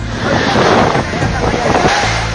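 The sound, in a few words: strong rushing current of floodwater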